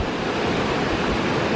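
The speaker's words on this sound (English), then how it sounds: "So this is the Hatero Weir and Water Channel" Water rushes steadily through a weir and water channel in the Serra da Estrela mountains of central Portugal, a loud, unbroken roar heard up close with no voices.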